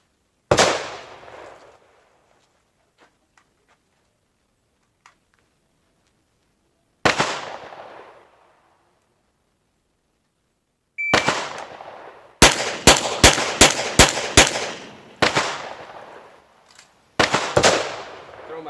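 A Sig P320 pistol fires during a shooting drill: a few isolated sharp cracks at first, then a rapid string of loud shots followed by a final pair, each ringing out close by over an otherwise quiet range.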